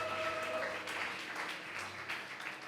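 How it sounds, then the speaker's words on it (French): A church congregation claps loudly in sustained, dense applause with cheering voices mixed in, filling the hall throughout. "Acclamez très fort pour la parole du Seigneur."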